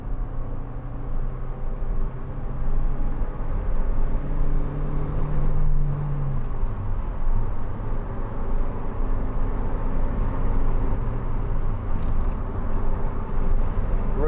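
A 2004 MG TF 1.6 two-door roadster drives along with a steady engine drone and road rumble, the engine note rising and then dropping through a gear change, heard from the cabin.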